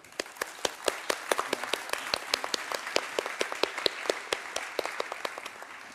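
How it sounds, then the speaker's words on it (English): Conference audience clapping for a panel of speakers, sharp distinct handclaps in a fairly sparse, rhythmic pattern, close and clear, with no talking over it. "let's give them a round of applause"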